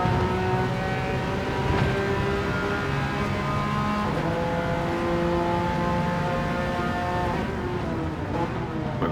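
Race cars, a Corvette among them, run flat out down the straights in Gran Turismo 7, with steady layered engine drones and shifting pitches held at constant loudness throughout.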